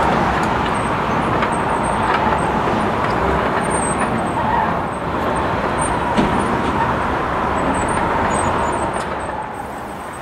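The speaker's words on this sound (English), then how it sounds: "dozer goes back and forth on the road many, many times, pushing the dirt and leveling out the road" Bulldozer repeatedly pushing dirt and leveling a road on the Atlanta Beltline, a steady rumbling diesel engine with scraping and clanks, fairly loud and continuous, heard from nearby.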